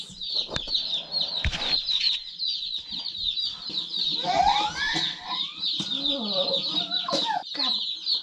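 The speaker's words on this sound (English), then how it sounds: "No, it's chickens." Chickens cluck and chirp steadily up close in a farm setting, with overlapping calls and occasional louder squawks against a constant background chatter.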